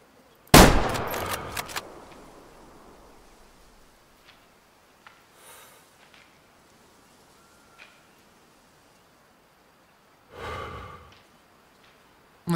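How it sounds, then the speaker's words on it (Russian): Rifle shot in a hunting video game, a single sharp loud crack followed by a short decaying tail, then long quiet stretches with faint small noises and a brief breathy sound later on. "Ну я дал выстрел."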